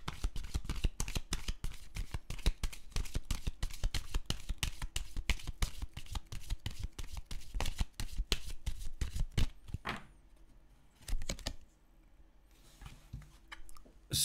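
Tarot cards shuffled by hand in rapid riffling bursts, crisp close snaps repeating for several seconds, then a pause and quieter handling as cards are pulled.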